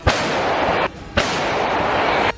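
Russian artillery shelling in a forest: two loud, sharp blasts, each followed by about a second of sustained roaring rumble, with a short pause between them.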